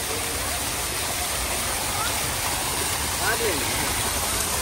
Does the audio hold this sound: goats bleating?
no